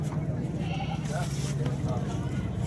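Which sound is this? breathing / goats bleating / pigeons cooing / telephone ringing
goats bleating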